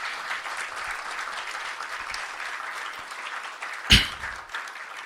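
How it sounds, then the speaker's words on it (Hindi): An audience claps together at a poetry gathering, a dense, steady wash of applause throughout with one sharp, louder burst near the end. "मैं चाहूँगा कि आप सब लोग इन दोनों के लिए प्लीज़ तालियां बजा दें।"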